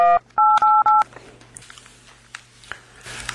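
A telephone keypad sounds a quick series of loud touch-tone beeps, four in a row, followed by softer clicks and handling noise as the caller waits for the line.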